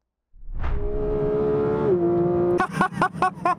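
A 2025 Porsche 911 GT3 accelerates hard, its engine note rising loud and steady through the revs, dropping briefly at a gear change, then cracking and popping in a rapid burst of sharp bangs on the overrun.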